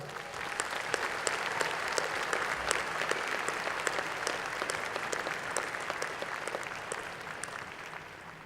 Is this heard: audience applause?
yes